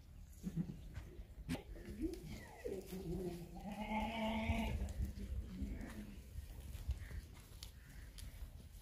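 Goats bleat in a pen where a breeding buck is kept with five does. Several drawn-out, wavering calls overlap across the middle, loud and close, over steady background noise and scattered knocks.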